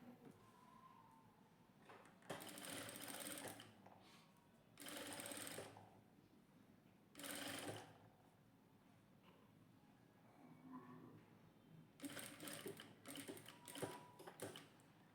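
Several short bursts of a sewing machine stitching along a cord piping on a princess-cut blouse, separated by quiet pauses, close by with no speech.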